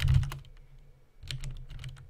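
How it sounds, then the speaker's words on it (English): Quick bursts of clicking keystrokes on a computer keyboard, a close flurry at the start, a pause, then another run of taps, with no talking. "Typing it in."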